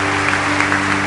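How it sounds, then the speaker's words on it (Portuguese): A church congregation applauds during a worship service in Fortaleza, a short burst of steady, dense clapping over a low sustained hum. "Salva de palmas para o Senhor."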